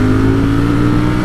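A Ducati Streetfighter V4S motorcycle engine revs steadily and loudly close by, a dense continuous drone with strong low harmonics and no talk.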